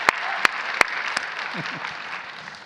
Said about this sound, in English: That one I will definitely applaud.